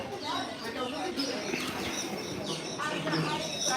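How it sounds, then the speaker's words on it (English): Birds inside the Animal Kingdom aviary at Walt Disney World: repeated chirps, tweets and soft coos scattered through an open outdoor space, moderately close, with people talking over them. "There's some pretty birds in here."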